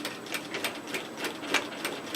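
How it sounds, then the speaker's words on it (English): Sewing machine stitching a 1 cm seam in hoodie fabric, folded with overlocked raw edges matched at a mitred split hem: a steady rapid needle chatter, close and moderately loud, with no voices. "fold it, match our overlocking and our raw edges, and stitch 1 centimeter, which is 3/8 of an inch."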